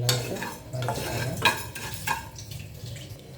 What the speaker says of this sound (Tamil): அடுத்து பச்சரிசி கொட்டி இதையும் நல்லா வறுத்துக்காங்க.